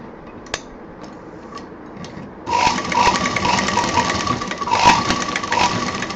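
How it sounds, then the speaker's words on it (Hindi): Sewing machine stitching a zipper onto a handbag: a few faint ticks, then the motor starts with a fast, even whirring rattle of stitches that runs continuously at close range. "यहाँ जिप पर हमें डबल मशीन चलानी है।"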